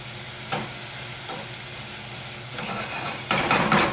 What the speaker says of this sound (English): And we're going to brown our bacon.